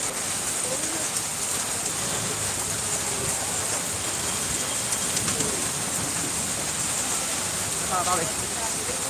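Heavy hail and rain fall on Sirhind, Fatehgarh Sahib, making a dense, continuous hiss and patter with occasional sharper impacts, and faint voices are heard in the background.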